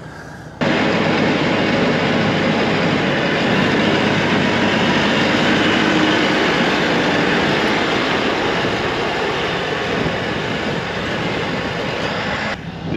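An LS MT 573 tractor works with a loud, steady engine drone that holds continuously and close, with no talk over it.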